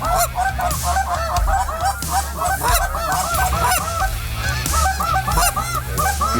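A dense flock of geese in Prince Edward Island, Canada honks continuously, many overlapping calls layered loudly over a low rumbling background.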